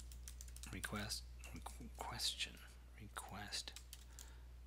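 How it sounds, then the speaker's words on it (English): Rapid computer-keyboard typing while someone codes a Java app, keys clattering in uneven bursts under a quiet talking voice throughout. "I think I'm getting tired of typing."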